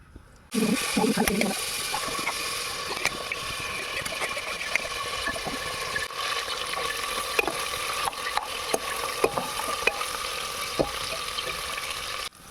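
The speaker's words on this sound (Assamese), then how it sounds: "কুকাৰটো গৰম হৈ গ'ল, ইয়াতে ৰিফাইন তেলখিনি দি দিম।" Refined oil hitting a hot pressure cooker with an abrupt burst of sizzling, then a steady close crackle and hiss while cooking biryani, with no voices.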